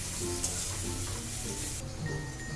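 Onions fry in hot oil with a soft, steady sizzle and faint crackle, heard quietly and alone with no voices.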